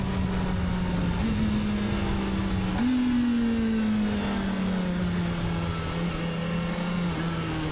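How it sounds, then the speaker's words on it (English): A Kawasaki ZX4RR 400cc four-cylinder motorcycle engine rises sharply in pitch on a quickshifter downshift, then settles into a long, steadily falling drone as engine braking slows the bike, loud and continuous without speech. "you hear the engine rev up and then the engine brake"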